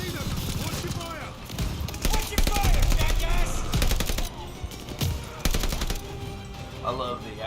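Rapid machine gun bursts in the WWII shooter Call of Duty Vanguard, close and loud rattling strings of shots separated by brief pauses, with voices and game sounds mixed in.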